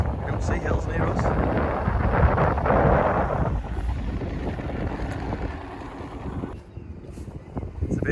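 Strong wind buffets across a hilltop field in rural country, a loud rushing roar with gusts that swell and ease, and some low rumbling from the wind striking the microphone.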